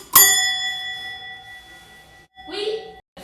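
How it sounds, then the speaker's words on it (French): One bright ring of a bicycle bell used as a doorbell, close and loud, its metallic tone hanging and fading for about two seconds before a brief voice. "c'est un timbre de vélo"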